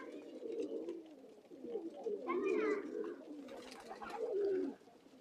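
Pigeons of an old Khulna bloodline coo softly and close by in their loft, with a few low, rolling calls rising and falling over several seconds.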